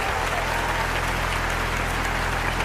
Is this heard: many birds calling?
no